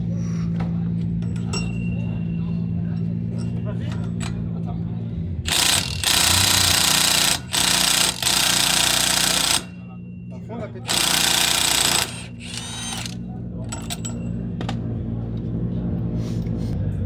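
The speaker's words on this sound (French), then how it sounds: "J'ai une perceuse" Power drill or impact tool working on a race car in a paddock pit area, two loud, harsh bursts of a few seconds each over steady engine rumble, with people talking nearby.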